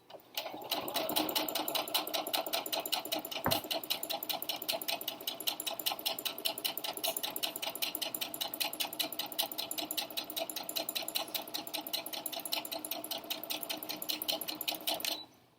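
A sewing machine stitches along the edge of a tie-on fabric face mask in a fast, steady rapid-fire clatter lasting about fifteen seconds, close and alone, with one brief thump near the start.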